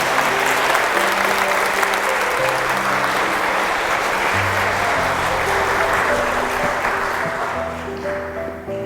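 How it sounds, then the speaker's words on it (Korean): Sustained applause from a church congregation welcoming a Catholic priest to a parish lecture, a dense even wash of many hands that holds steady and fades slightly toward the end, with faint background tones underneath. "박수로 환영해 주시기 바랍니다."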